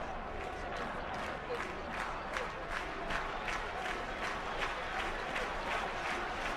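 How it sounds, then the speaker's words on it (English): A rugby crowd at the Stadio Flaminio in Rome applauding during an Italy versus Wales match, a steady wash of distant clapping from many hands filling the stadium throughout. "But the crowd appreciates it inside the Stadio Flaminio."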